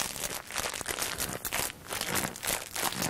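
Foley starch is squeezed to imitate footsteps crunching in snow, giving a close, loud, continuous crinkling crunch with a few rhythmic squeezes that pulse in quick succession.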